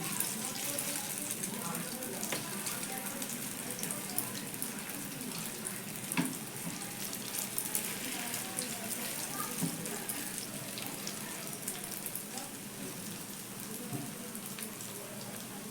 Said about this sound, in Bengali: সাইড থেকে একটু গরম তেল উপরের দিকে ছিটিয়ে দিচ্ছি যাতে উপরের দিকটাও সুন্দর করে ভাজা হয়ে যায়